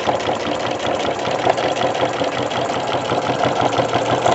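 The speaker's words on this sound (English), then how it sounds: "And you hear how quiet it sews on leather?" Sewing machine stitching real leather, a steady, even mechanical whirr with a fast rhythmic chatter, close and fairly loud, with no talk over it.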